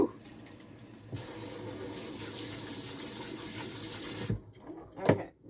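Water gushes steadily from a garden hose for several seconds at close range, a continuous broadband splash that cuts off abruptly near the end, followed by a brief faint clatter.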